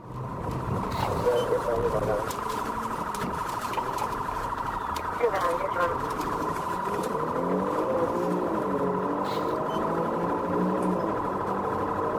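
A Florida state trooper's patrol car runs its emergency siren to make a traffic stop during a highway pursuit. The steady wail and yelp cycle through repeatedly under someone narrating over the top.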